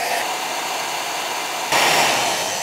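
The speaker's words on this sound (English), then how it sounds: "I'm gonna use a heat gun." A heat gun blows hot air onto a server rack lithium battery, a loud steady roaring hiss that jumps abruptly to a stronger setting partway through, heard alone without speech.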